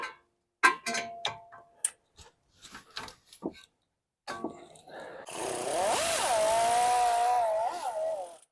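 A power tool working the 17 mm rear brake bolts on a Toyota Highlander during a brake job: scattered clicks and taps, then a loud, steady whirring run near the end.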